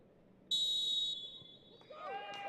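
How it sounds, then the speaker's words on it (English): A Slovakian referee's whistle starts a women's Champions League football match between Arsenal and PSV, a sharp shrill blast of about half a second over distant crowd murmur, followed by fainter whistling tones. "With her second whistle, we'll be getting underway"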